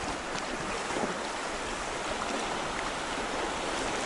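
Rushing water from river rapids on the Seryozha river forms a dense, steady broadband roar close by, with no voices heard.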